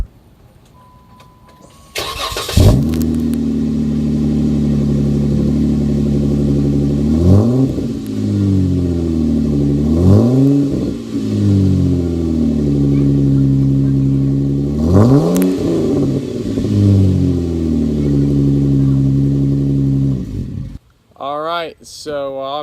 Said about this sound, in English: it sounds way better and it's tucked away more than the stock exhaust